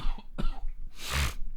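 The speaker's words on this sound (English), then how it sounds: "I'm going to actually have a cough" Two or three sharp coughs from one person close by, the last one the loudest and raspiest, with no talking around them.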